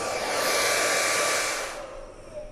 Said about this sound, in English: Always use a nozzle on the dryer and direct it parallel with the hair.